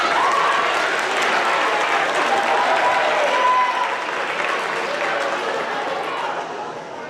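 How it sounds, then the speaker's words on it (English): Sustained applause from an audience at a sixth grade awards ceremony, dense steady clapping filling the room for several seconds and tapering slightly near the end. "And another round of applause."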